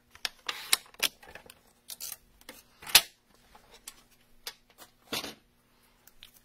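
Paper craft kit pieces for a Paper Pumpkin project are sliced to 5 1/4 inches on a paper trimmer, giving a scattered series of short, close, quiet clicks and sliding swishes with pauses between them and no talking.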